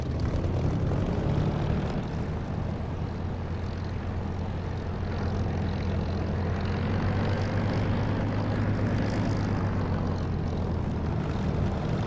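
A Spitfire's piston engine taxiing after landing in the DCS flight simulator, a steady loud propeller drone with constant low rumble throughout, and a brief voice heard over it.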